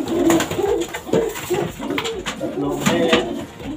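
Racing pigeons, recently young birds, coo in soft repeated throaty bursts close by while someone talks over them.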